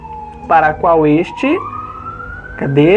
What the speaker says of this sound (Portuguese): passou uma ambulância aqui agora e atrapalhou um pouco aqui